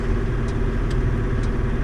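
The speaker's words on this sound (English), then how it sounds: "there's a custom hauler, whatever you want to call it, grain truck rolling in" A custom hauler's grain truck rolls in on a farm to be loaded, a steady low engine rumble and drone near and constant with no talk.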